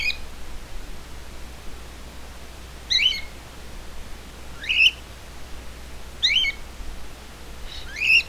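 A bird gives short, sharp chirping calls at regular intervals of about a second and a half, close and clear over a low steady hum.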